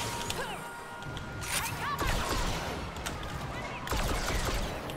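Blaster fire in the Star Wars Battlefront II campaign: a string of sharp shots and zaps crackles over a busy battle backdrop, with brief louder bursts near the middle and at the end.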